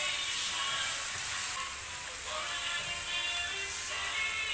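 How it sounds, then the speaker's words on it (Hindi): Ginger and garlic paste sizzling in hot oil: a steady, bright, close frying hiss that continues without a break, with faint stirring under it. "इसको गरम गरम ऑयल में आपने डालना है जिंजर और गार्लिक का पेस्ट, 1 चम्मच।"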